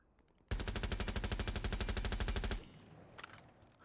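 A two-second sustained burst of automatic gunfire in Rainbow Six Siege, loud and rapid with evenly spaced shots, followed by quieter game sounds.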